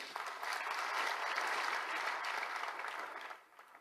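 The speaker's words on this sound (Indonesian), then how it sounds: "Tepuk tangan yang keras." Loud, dense applause from a church congregation during a Christian sermon, a steady wash of many hands clapping close and full for several seconds before tapering off at the end.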